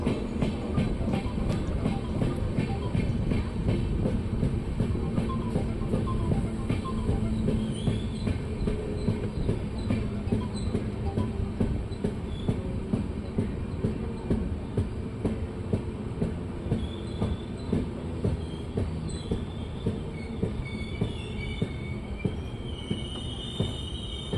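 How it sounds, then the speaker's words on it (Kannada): A passenger train pulls out of Maddur railway station from platform 2 on the Mysore to Chennai run. The loud, steady rumble of rolling wagons continues throughout, with rhythmic wheel clatter on the rails and occasional high wheel squeals, and no voices. "ಮದ್ದೂರು ರೈಲ್ವೆ ಸ್ಟೇಷನಿಂದ ನಮ್ಮ ಟ್ರೈನ್ ಹೊರಟಿದೆ"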